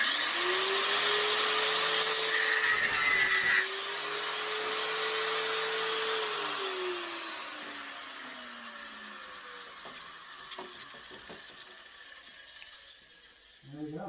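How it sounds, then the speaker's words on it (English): Jigsaw fitted with a metal blade cutting thin metal on a Honda GoldWing motorcycle project, a loud, steady buzzing whine for a few seconds that shifts pitch as the cut progresses, then winds down and fades near the end. "I decided to try the jigsaw with a metal blade"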